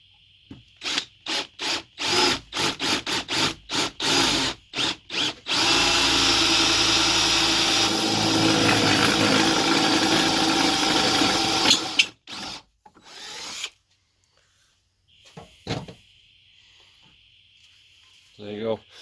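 A drill bores 10mm holes through steel seat rail brackets for a Toyota Corolla E12: a rapid series of short bursts, then one long sustained grinding run, followed by near silence with a few faint knocks.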